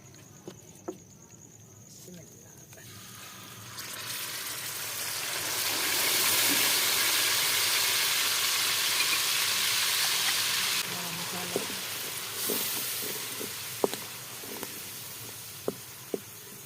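Chopped onions sizzle in a hot pan for eggplant masala, a broad hiss that swells after a few seconds, holds steadily, then drops back, with a few sharp clicks and taps of utensils near the end.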